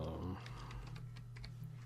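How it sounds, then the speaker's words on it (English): Light clicking of a computer keyboard being typed on, a quick scatter of soft keystrokes beneath a low steady hum, with a brief voice at the very start. "You just type in what you want."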